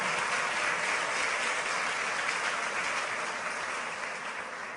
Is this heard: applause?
yes